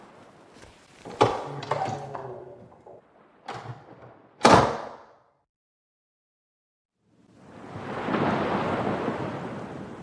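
A storm sound effect: sharp cracks and rumbles of thunder burst out one after another, then after a short silence a broad, roaring wash of rain or surf builds and holds steady.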